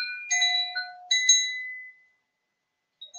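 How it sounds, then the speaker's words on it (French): Meditation chime or bell struck during a guided relaxation session, ringing two clear, bright tones that sustain and fade away, followed by a faint third strike near the end, with no talking over it. "pouvez vous concentrer sur le bruit du carillon"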